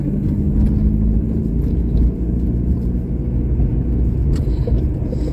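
A car drives along an empty road with a steady low engine rumble and tyre noise, continuous and fairly loud with no talk.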